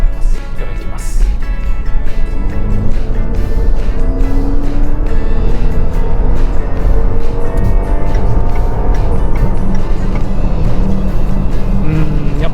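Range Rover Sport PHEV p400e plug-in hybrid, rated at 400 horsepower, accelerating hard from about 50 to 120 km/h, heard from inside the cabin as a loud, steady engine roar with rising tones and road noise throughout.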